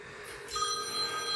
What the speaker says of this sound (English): Oh, of course, here goes the phone.